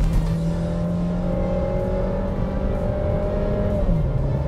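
A Volkswagen Taos compact SUV accelerates at full throttle in Sport mode, its engine note climbing steadily and loudly from inside the cabin, with a brief dip near the end as it shifts gear.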